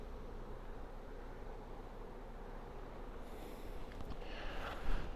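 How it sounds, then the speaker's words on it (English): Honey bees spilling out of their hives onto ivy on a cool, overcast day in Ireland make a faint, continuous buzzing hum, with a slightly louder rise near the end. "these bees are still spilling out of the hives"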